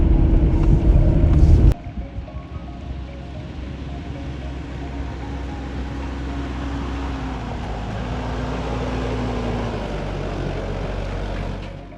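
A Mitsubishi Delica L400 4x4 van crawls slowly in low gear with its engine revved high, producing a steady droning rumble heard from inside the cab. A loud gusty burst at the start gives way to even engine noise with no voices.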